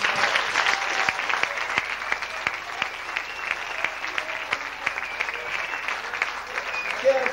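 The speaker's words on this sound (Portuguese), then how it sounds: "agradeço uma salva de palmas que ele faz muito bem" Audience applause at a Portuguese-language presentation event, steady dense clapping filling the room throughout, moderately loud and continuous without a break.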